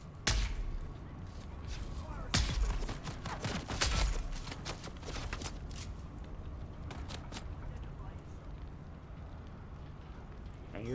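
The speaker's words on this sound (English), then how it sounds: "I hear someone else shooting at me" Gunfire in the video game Dune Awakening: a series of sharp shots and bursts, some loud and close, others quicker and scattered, over continuous background game noise.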